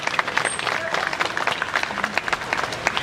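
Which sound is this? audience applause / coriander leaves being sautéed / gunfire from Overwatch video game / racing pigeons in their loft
audience applause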